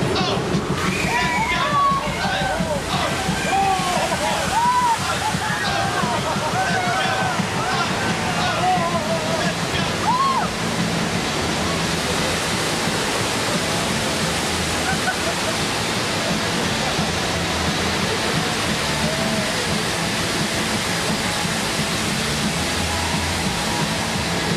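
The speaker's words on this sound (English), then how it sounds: "The water main broke." A burst water main on a studio backlot tour throws out a steady, loud rush of gushing water, broad and continuous throughout, with shouting voices and whistle-like tones rising above it early on.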